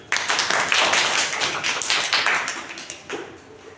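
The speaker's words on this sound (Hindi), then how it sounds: "ताली बजाइए।" A classroom of students claps hands together, a dense, steady burst of many overlapping claps sustained for several seconds before tapering off.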